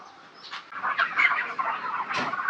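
Chickens in a poultry shed on a farm, a dense chorus of clucking and squawking birds that keeps up throughout and grows busier and louder partway through, with no talking.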